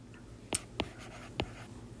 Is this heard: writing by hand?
yes